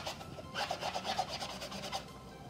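A Mr. Clean magic eraser is scrubbed back and forth over a surface, making a run of close, quick, dry rubbing squeaks in a steady rhythm, fairly quiet with no voices.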